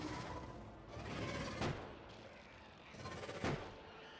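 Gun turrets in the video game Factorio fire at small worms, producing two sharp, booming shots about two seconds apart over a low, steady background rumble.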